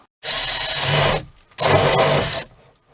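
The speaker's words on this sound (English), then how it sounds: "make a little hole cut with this drill just so I have a place to start with the jigsaw" A power drill boring a starter hole for a jigsaw cut in a camper, running loud and close in two whining bursts with a short pause between them.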